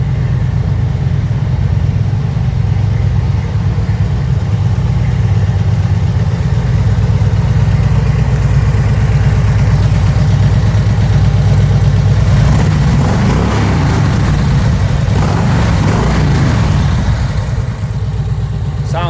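A 1999 Harley-Davidson Road King Police motorcycle with 16,000 miles runs after a cold start, giving a loud, steady, close engine rumble throughout with a rougher, busier stretch partway through.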